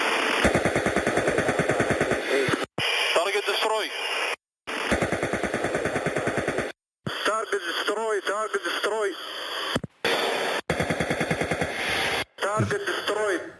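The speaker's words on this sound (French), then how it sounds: "ce que vous entendez, c'est du tir canon" Helicopter cannon fire aimed at an Iranian Shahed drone, rapid loud bursts of gunfire in several clusters separated by brief silences, with radio chatter audible between bursts.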